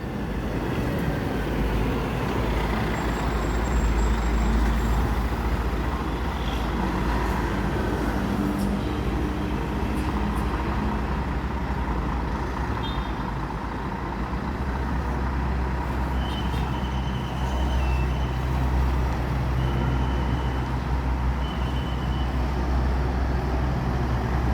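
Scania K410 chassis tronton bus on a Sumatra route, heard as a steady, loud engine and road drone throughout, rumbling low and constant with no speech.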